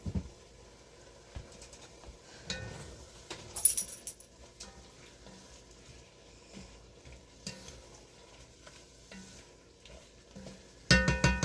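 Onions frying in a pan, a quiet sizzle with intermittent scraping and clinking as they are stirred, ending in a louder burst of clatter.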